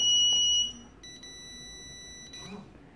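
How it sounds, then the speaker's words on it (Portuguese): A shrill electronic beep tone sounds, then a sustained higher beeping tone with brief interruptions as a PE-500 queue management pager vibrates and alerts, fairly close and clear. "Ele vai vibrar e vai bipar."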